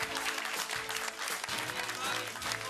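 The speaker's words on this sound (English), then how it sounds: "It's an exciting time with lots of applause and smiles all around." Applause at a business networking chapter meeting, dense continuous clapping from a room of people, steady and fairly loud throughout, with voices mixed in beneath it.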